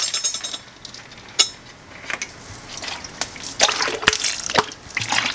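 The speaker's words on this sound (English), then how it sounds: "I'm going to do a big squeeze of lemon juice" Lemon juice squeezed by hand over a bowl of sugar while preparing a white chocolate raspberry mousse, with soft wet drips and splashes, a few sharp clinks and a faint trickle, all close and quiet.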